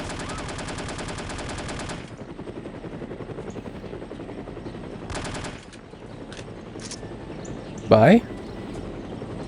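In the shooter No One Lives Forever, a helicopter's rotor throbs steadily while bursts of machine-gun fire rattle on and off, with a loud spike near the end and a voice speaking briefly.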